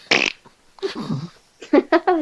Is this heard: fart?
yes